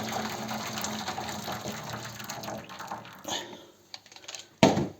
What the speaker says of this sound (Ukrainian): тут я вливаю 2 літри води у цю бляху